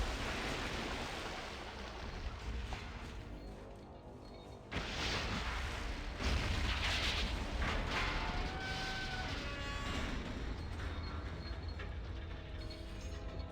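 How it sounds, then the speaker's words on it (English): Explosions go off in pieces in the game Fallout, heard as a sustained rumbling roar with a sharp burst partway through and continued crackling, booming noise after it. "explosion detonation by pieces rather than all just going up at once"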